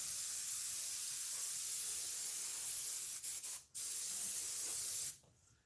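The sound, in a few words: airbrush spraying ink on a Demogorgon mouth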